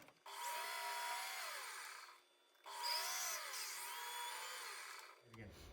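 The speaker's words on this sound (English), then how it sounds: "This is a U drill, and it's just under 3/8." A U drill just under 3/8 inch bores a hole in a pulley for a small oddball engine, two sustained whining drilling runs with a brief pause between, the machine winding down at the end.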